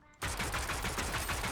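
Sustained rapid gunfire from a video game match starts abruptly and continues loud and dense, a steady automatic burst filling the whole stretch.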